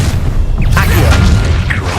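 A Confringo spell in Hogwarts Legacy bursts as a deep, loud boom with crackling debris, followed by smaller pops, and a voice can be heard amid the combat.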